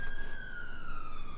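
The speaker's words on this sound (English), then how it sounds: "No, it's an ambulance." An ambulance siren outside sounds as a steady, slowly falling wail at middle distance, held under a dense rumbling background of traffic noise.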